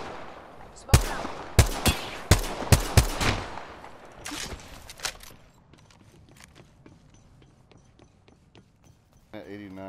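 Video game gunfire crackles in a rapid burst of about eight loud close shots, then thins to scattered faint distant pops, with voices under the action.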